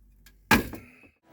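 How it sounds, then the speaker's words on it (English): A door on a construction site that will not close is pushed, giving one sharp thunk with a short rattle and scrape that fades over about half a second, close by in a quiet space. "This door won't close."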